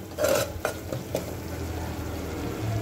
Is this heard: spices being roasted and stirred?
yes